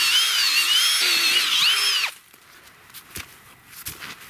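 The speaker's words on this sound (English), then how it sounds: "let's get this drill back out" A cordless drill whines loudly and steadily for about two seconds, then cuts off, leaving faint knocks and handling noises outdoors.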